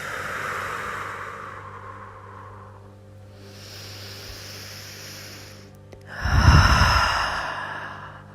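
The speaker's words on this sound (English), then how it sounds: "Beginning to breathe deeply in through the nose." Slow, deep breathing in through the nose and long exhalations during a yin yoga session, heard as several drawn-out airy breaths with a louder, fuller breath near the end, close and without speech.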